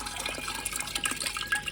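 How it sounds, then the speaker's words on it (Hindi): Water from soaking mash dal pours into a pressure cooker with a continuous splashing, gurgling stream. "इसी सोक वाले पानी को ही मैं प्रेशर कुकर में डाल दूँगी।"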